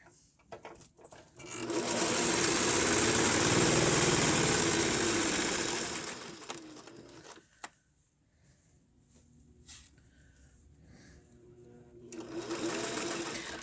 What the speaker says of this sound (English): And stitch it out.